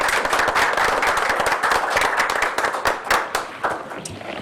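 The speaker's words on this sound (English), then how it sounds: "let me, I guess, give you a round of applause from the board" A round of applause at a selectmen board meeting, dense clapping from a group of people that starts full and thins out toward the end, fairly loud and close.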